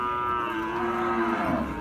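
Dairy cattle at a livestock market moo in one long, loud, sustained low bellow that holds steady and then fades slightly at the end.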